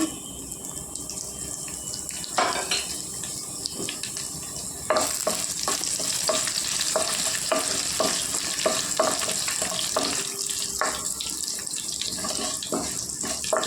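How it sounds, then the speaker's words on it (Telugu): Urad dal with husk, cumin and mustard seeds frying in hot oil, a close steady sizzle broken by sharp crackling pops and spoon-stirring clicks, with no voices. "పొట్టుమినపప్పు జీలకర్ర ఆవాలు వేసుకుంటున్నానండి"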